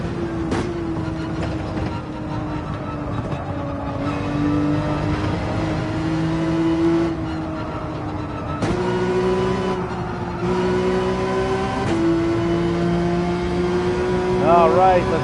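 Race car engine in Gran Turismo 7 on the Dragon Trail circuit: a steady, loud engine drone that climbs in pitch through the gears, with brief drops at shifts and repeated revving as it accelerates.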